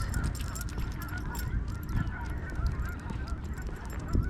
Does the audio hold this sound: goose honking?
yes